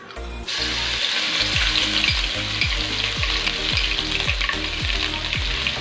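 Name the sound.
ginger garlic paste frying in hot oil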